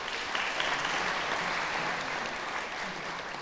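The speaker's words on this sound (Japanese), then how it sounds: "もう一度大きな拍手をお願いします。" Concert audience applauding in a hall, a steady, dense wash of many hands clapping at even loudness for the whole stretch, with no voices over it.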